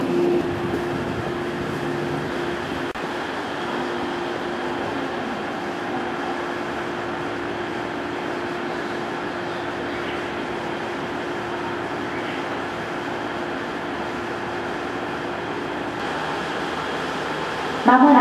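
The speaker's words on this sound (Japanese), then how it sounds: "まもなく5番線から松本行き普通列車が発車します。" A JR 115 series local train on the Shinetsu Main Line sits at a station and begins to depart, giving a steady hum of motors and ventilation with a sustained tonal whine, continuous and fairly close.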